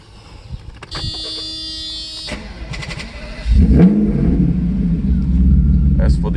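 A Mercedes 600SEC engine idles with a low rumble, then surges louder and keeps running with uneven, fluctuating revs; a chime and beeping are heard early on.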